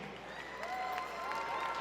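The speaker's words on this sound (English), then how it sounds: "I hear clapping." Audience clapping at a UNLV event, a soft, steady patter of applause from a crowd building slightly over the moment.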